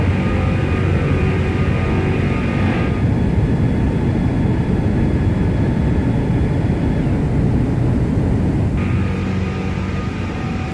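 Airbus A340-600 airliner making a flyby in the X-Plane 12 flight simulator, a loud, steady broadband engine roar that holds without pause for the full length, with a faint whine riding on top and no voices.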